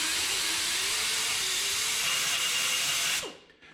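A carbide burr grinds a weld off a steel coil-over mount on a 1967 Toyota Stout: a continuous high, steady whirring grind held close and loud for about three seconds, then spinning down and stopping.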